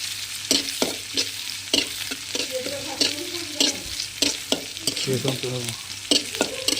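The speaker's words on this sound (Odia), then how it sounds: "ପିଆଜକୁ କିଛି ସମୟ ଭାଜିବା।" Onions frying in oil in a pan, with a steady crackling sizzle broken by repeated scraping stirs of a spoon at a loose, uneven rhythm, close and fairly loud with no voices.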